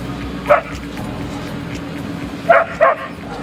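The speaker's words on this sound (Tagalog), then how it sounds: "Di kalaunan, tumayo at tumatahol na siya na tila bumabati sa mga tripulante." A dog barking at a ship arriving in port: one short bark, then two quick barks close together a couple of seconds later, fairly near, over a steady low background rumble.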